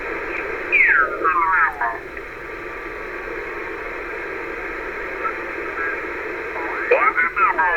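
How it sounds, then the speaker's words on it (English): Hiss and static from a Yaesu FT-990 ham radio receiver being tuned, a steady noisy wash with warbling, chirping signal fragments drifting in and out, including brief bursts near the start and end. "You can actually hear a little bit more static when you turn this down"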